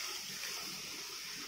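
Water splashes and hisses steadily into a hot pan of ghee-roasted mixture, a soft continuous pour heard alone at low volume.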